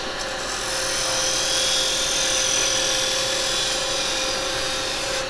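A roughing gouge cutting on a wood lathe, a loud continuous whirring hiss from the spinning wood with a steady high tone, sustained evenly throughout.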